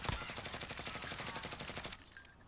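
Rapid, evenly spaced automatic gunfire in a tactical shooter video game, a sustained burst of close, sharp shots lasting about two seconds before cutting off, fairly quiet overall.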